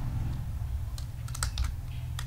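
Quiet typing of HTML code on a computer keyboard, with scattered soft key clicks and a few quick bursts close by over a steady low room hum, no voice.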